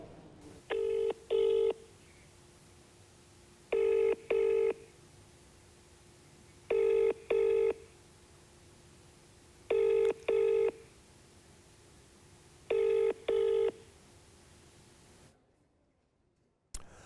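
Five paired bursts of telephone dialing tones at even intervals, steady and clear over a low hum, while a call is placed to a Maharashtra legislator; silence follows at the end.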